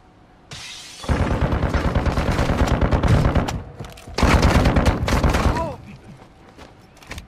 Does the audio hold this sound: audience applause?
no